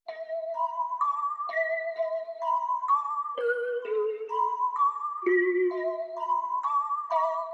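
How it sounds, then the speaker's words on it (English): A kalimba melody in a hip-hop beat plays bright, plucked notes in a steady repeating pattern, clean and close with no voices. "So the first thing I added was this kalimba sound that sounds like this."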